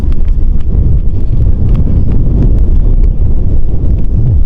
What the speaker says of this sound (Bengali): আর প্রচণ্ড পরিমাণে হাওয়া দিচ্ছে, প্রচণ্ড পরিমাণে হাওয়া।